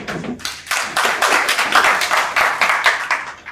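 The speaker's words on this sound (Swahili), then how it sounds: "Hebu tupigeni makofi" An audience at a sales training session claps hands in a burst of close, crisp applause that starts scattered, quickly fills in and keeps going with a lively patter.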